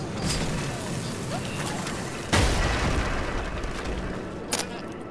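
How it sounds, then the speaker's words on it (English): Battle Bus self-destructing in a video game: a sudden loud boom about halfway through, rumbling out over a dense noisy backdrop, with a second sharp pop near the end. "Oh, you did press the self-destruct"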